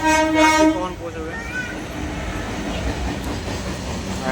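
A Malda Court to Siliguri DEMU passenger train sounds a loud horn toot at the start, then its running rumble and rattle carries on steadily close by.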